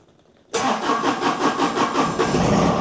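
A John Deere tractor engine cranks and fires after a brief quiet start, then settles into a loud, steady, pulsing idle close by.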